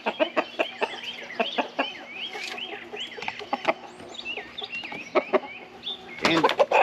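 A backyard rooster clucks in short bursts among other fowl, with repeated chuck notes and a few louder squawks near the end, close and fairly clear with no talking.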